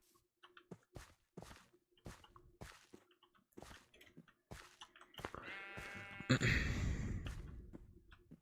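Sheep bleating in a video game, the bleat rising near the end over a run of regular footstep-like crunches, with no talking.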